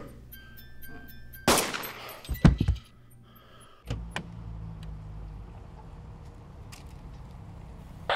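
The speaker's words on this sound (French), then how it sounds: "j'ai comme entendu des coups de feu" A few sharp bangs like gunshots ring out, one sudden blast followed by a quick cluster of cracks, then a lone thud over a low steady hum.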